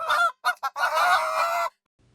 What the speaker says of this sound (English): the chickens in the last coop suddenly exploded into terrified cries once more, fluttering and squawking wildly